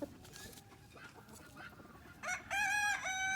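Backyard chickens, including a barred hen, cluck softly in scattered calls, then a loud drawn-out crow-like call rings out close by.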